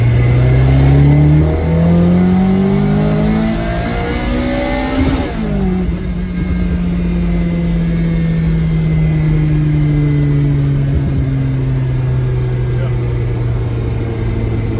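Mazda 323 with a VVL engine swap and a worn gearbox accelerating from inside the cabin, a loud steady engine drone rising in pitch, easing, then climbing again, with someone talking over it.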